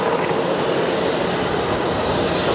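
A Dynasty airliner jet rolls along the runway at Brisbane Airport at night, its engines giving a continuous, loud, broad roar with no break, heard from a distance without any voices.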